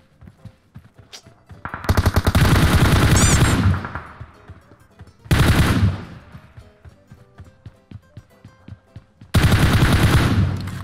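Automatic gunfire in PUBG Mobile rips out in three loud bursts, each a rapid rattling volley lasting a second or two, separated by quieter gaps with scattered clicks and faint distant shots.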